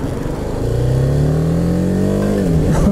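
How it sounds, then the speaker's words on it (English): A 2017 BMW G 310 R single-cylinder motorcycle engine revs up and holds at higher rpm for a few seconds, a close, fairly loud and rough buzzing drone with no voices over it. "I'd rev it and impress you. This is one of the least impressive revs I've ever heard."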